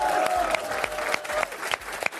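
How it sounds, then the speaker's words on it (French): A crowd gives sustained applause at the launch of the TV channel Novo 19, with dense, steady clapping filling the whole moment at an even, lively level. "Un lancement, vous l'entendez avec des applaudissements"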